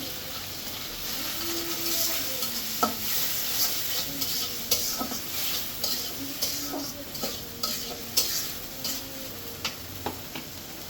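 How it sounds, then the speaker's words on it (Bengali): Prawns frying in hot oil with turmeric powder, a steady close sizzle running throughout with frequent sharp clinks and scrapes of a utensil stirring against the pan. "তেলটা গরম হয়ে গেছে এখন এই যে চিংড়ি মাছটা দিয়ে দিলাম"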